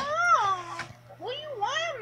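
A cat meows twice up close, a drawn-out wavering call followed by a shorter rising-and-falling one, with a faint low hum underneath.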